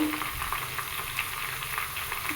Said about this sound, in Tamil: இப்போ நல்லா கொதிக்கிற எண்ணெயில் வந்து இந்த வாழைப்பூ வந்து ஃப்ரை பண்ணி எடுத்துக்கிறோம்